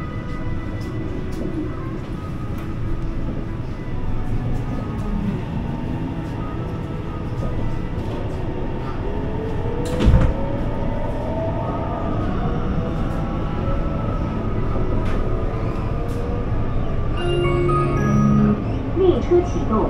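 Wenzhou S1 line metro train starting to move, a low steady rumble building gradually with a rising motor whine, heard from inside the car under a recorded station announcement.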